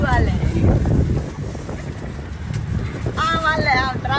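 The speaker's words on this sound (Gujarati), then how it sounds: "પવન એવો ગજબનો આવે ને ભાઈનું હોંડા માથું વાલે" Strong wind buffets the microphone while riding along in a rickshaw, a rough low roar running throughout beneath a voice talking.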